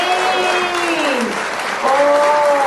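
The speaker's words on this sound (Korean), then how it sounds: "박수" Applause rises during an online K-pop vocal lesson as a guest arrives, steady clapping running under excited voices talking throughout.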